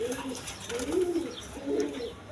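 Lahori pigeons of a Sirazi Lahori breeding pair give soft, low throaty coos in three rolling bursts, close and fairly quiet with light background noise.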